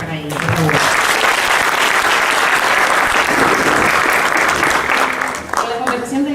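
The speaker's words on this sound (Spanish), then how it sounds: "empezamos con un fuerte aplauso para ella" A conference audience gives a sustained burst of loud clapping to welcome a speaker, dense and steady before tapering near the end, with voices audible around the edges.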